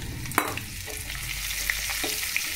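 Asafoetida and dried chillies drop into hot oil with a sharp clack, followed by a continuous bright sizzle and occasional small pops, close and alone.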